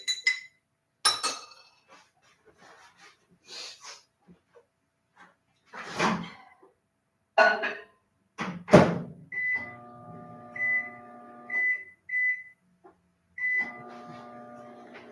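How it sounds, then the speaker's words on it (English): A kitchen microwave oven is handled: a few sharp clinks and door thuds, then a series of bright electronic keypad beeps, close and clear against otherwise quiet surroundings. "I'm gonna have to pop it in the microwave."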